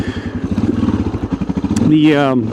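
Suzuki DR650 motorcycle riding down a dirt road, its engine putting out a steady pulsing thump close by that swells louder and rises in pitch near the end.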